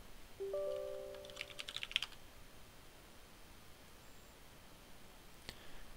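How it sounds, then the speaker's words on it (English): A computer keyboard, a faint, quick burst of key clicks at close range, with a few isolated taps afterward and an electronic chime near the start. "You will type in the following command:"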